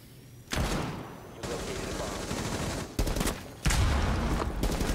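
Rapid bursts of gunfire in a Rainbow Six Siege ranked attack round, loud, dense fusillade-like shots in several clusters with brief gaps between them.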